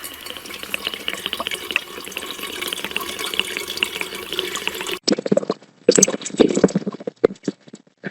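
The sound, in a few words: water being poured into a fountain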